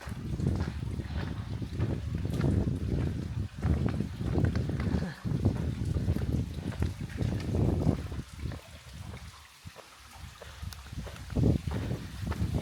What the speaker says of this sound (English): Breezy, and it's a warm breeze coming in now.